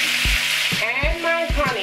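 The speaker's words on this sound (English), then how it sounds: "After my butter has melted, I go ahead and add my garlic in. Then I add my lemon juice to it" Lemon juice goes into a pan of sizzling melted butter and garlic. It sizzles and fries steadily up close, with rhythmic low knocks of stirring repeating about every half second and no talking.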